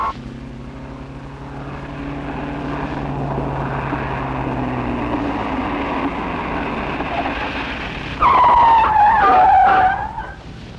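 Chevrolet stunt cars on a track: a droning engine wash builds under a long tyre skid, then a sharp, loud screech bursts near the end, with no talking.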